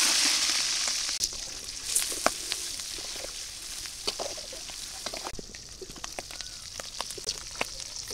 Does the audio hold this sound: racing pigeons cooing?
no